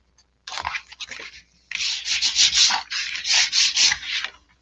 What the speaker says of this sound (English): I'll take my bone folder and burnish that just a little bit